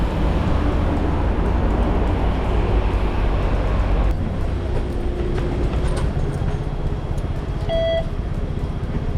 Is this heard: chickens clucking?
no